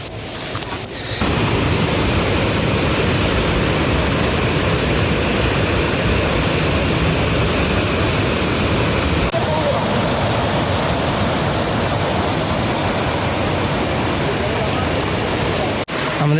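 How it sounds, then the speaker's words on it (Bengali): Muppochhora waterfall in the Bilaichhari hills of Rangamati, a steady, loud roar of rushing water filling the whole stretch with no break. "মুপ্পছড়া ঝর্ণা"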